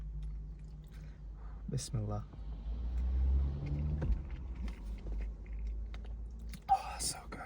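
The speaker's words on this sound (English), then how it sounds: "That's the sound of good mac and cheese." Mac and cheese is eaten with soft, close chewing and smacking in a quiet room, under a low steady hum. A short whispered word comes before it, and a brief louder rustle or knock follows near the end.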